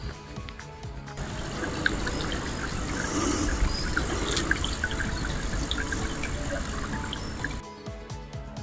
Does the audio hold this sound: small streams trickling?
yes